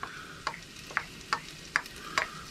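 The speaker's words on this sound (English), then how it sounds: "So I'm going to fry those off in that little butter." Leeks and garlic frying in butter in a pan, heard as a soft sizzle punctuated by five or six regular scraping strokes of stirring.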